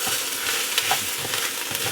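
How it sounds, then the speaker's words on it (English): Paprika gets stirred in a hot pot, a soft sizzle and frying crackle running throughout with faint scraping strokes from the stirring, close and moderately quiet. "Let's give that a stir."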